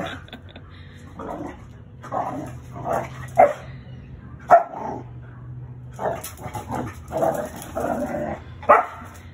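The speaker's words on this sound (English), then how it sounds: "Mia, that's a puppy." A puppy playing in a backyard, barking and yipping in repeated short bursts at close range, with growls and whimpers between the barks.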